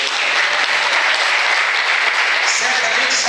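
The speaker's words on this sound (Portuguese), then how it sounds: "Você pode aplaudir Jesus?" Congregation applause during a church service, loud, dense clapping that carries steadily through the whole short stretch, with voices mixed in underneath.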